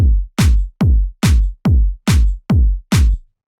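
A shifted clap sample plays together with a kick drum in a track, eight loud, punchy hits in a steady even rhythm, each a deep thump with a bright, short clap on top.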